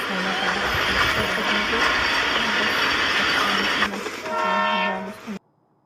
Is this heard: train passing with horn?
yes